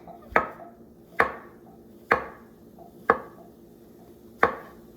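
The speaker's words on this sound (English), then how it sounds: "I'm trying to thinly slice them." A knife slices through big mushrooms on a board in five sharp, evenly spaced chops, close and clear, with no talking.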